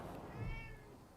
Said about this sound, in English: Meow. The cat slinks around her ankles.